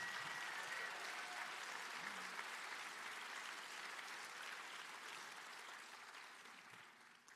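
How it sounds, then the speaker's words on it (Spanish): A church congregation claps for the Lord Jesus in a sustained, even wash of applause that stays full for several seconds and tapers slightly toward the end, with no talking over it. "Give the Lord Jesus a real hand clap."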